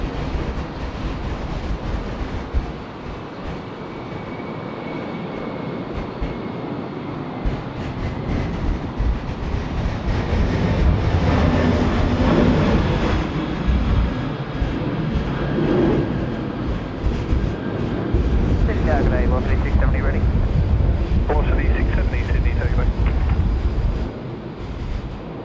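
Qantas Airbus A330-200 on its takeoff run at Sydney Airport, a broad, heavy jet roar that builds and swells over about twenty-five seconds, loud and steady with wind buffeting the microphone, no talk.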